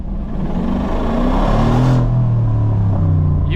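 A 2016 Mercedes-Benz G63 AMG with its 5.5L biturbo V8 accelerates with the window open, a steady deep engine drone rising in pitch as it pulls, loud and continuous from start to finish.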